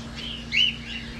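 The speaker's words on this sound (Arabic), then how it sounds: "هذا طائر الجنة ابو ذيل." A single bright chirp rises briefly out of steady low background hum, with birds gathered at the Al-Washm bird reserve.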